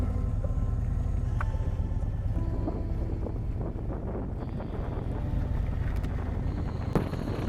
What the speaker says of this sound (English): Still waiting for the bike to warm up